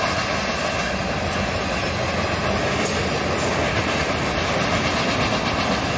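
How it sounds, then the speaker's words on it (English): A long freight train rumbles past nearby in Brighton, Ontario, loud and steady, with a constant roar and rhythmic clacking of wheels throughout. "Long train, holy moly."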